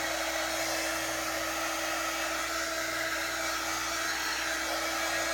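Hair dryer blowing steadily on wet paint, a loud continuous whoosh with a constant motor whine throughout.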